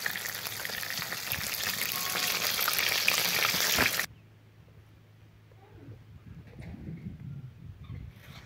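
Chicken wings frying in hot oil over medium heat for KFC-style wings, a loud steady crackling sizzle for about four seconds that cuts off abruptly into a much quieter, faint simmering background.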